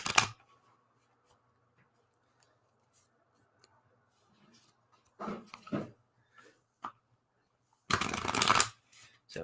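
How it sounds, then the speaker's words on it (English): Quick bursts of a deck being shuffled, a few short riffles, then one longer, louder shuffle near the end, with long quiet gaps between. "So another shuffle, and we'll get right into it here."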